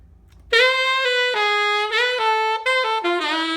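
Saxophone played with a loosened jazz embouchure on a soft reed, a run of bright, sustained notes with short breaks between phrases, close and loud, no talking.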